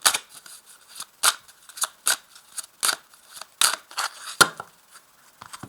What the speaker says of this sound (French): on va aussi remuer ces cartes-là